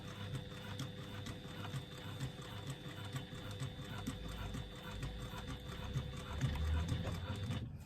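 A sewing machine runs a steady stitch down a seam on a retro clutch lining, a continuous low mechanical whir with a fast needle patter, fairly quiet and uninterrupted.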